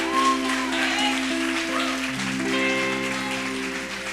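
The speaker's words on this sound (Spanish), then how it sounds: "Aplauda el nombre de Jesús" A church congregation applauds throughout, a broad clapping texture mixed with sustained keyboard or organ chords and tones underneath, fairly loud and continuous.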